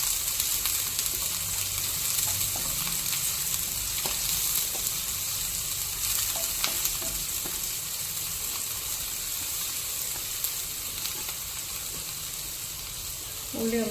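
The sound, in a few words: onion and split green chillies frying in oil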